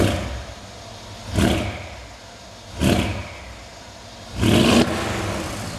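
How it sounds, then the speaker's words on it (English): Mercedes ML63 AMG exhaust revved three times in short, loud bursts with quieter idle between, close and with no talking. "Also, exhaust itself sounds phenomenal too."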